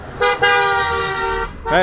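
A loud car horn blares in a long, sustained honk on a road near Almora, Uttarakhand, then sounds again briefly at the end, close and harsh.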